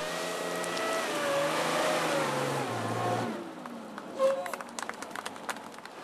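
Unimog truck engine revving at a European truck trial event in Amstetten, a loud sustained rising and falling engine roar that drops off partway, followed by quieter outdoor crowd noise and scattered clicks.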